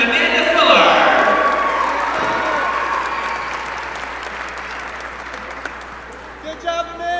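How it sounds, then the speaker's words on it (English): A crowd at an NC State sporting event applauds a senior, a loud swell of clapping that peaks early and slowly fades, with a few cheers and voices near the end. "a big round of applause for Wolfpack senior Amanda Fuller"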